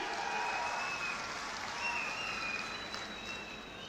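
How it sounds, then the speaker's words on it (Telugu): An audience at a large state investment announcement event breaks into applause. Dense, continuous clapping fills the whole stretch at an even level, with faint whining tones above it. "మీరందరూ కూడా గట్టిగా చప్పట్లు కొట్టి అభినందించండి"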